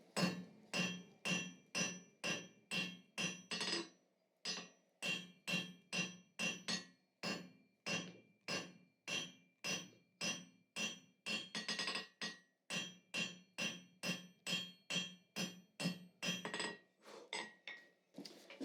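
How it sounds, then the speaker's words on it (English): Cross peen hammer forging a hot steel bar for a slot punch: a long run of sharp, ringing metal strikes in a steady rapid rhythm, close and loud, with two brief pauses between the bursts of blows and no talking. "Just going to take a cross peen, try to spread it a little bit more so we get a bit more width rather than length."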